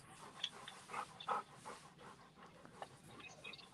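A dog panting quietly nearby, short soft breathy puffs with a faint whimper, heard alone at low volume as it waits to go for a walk.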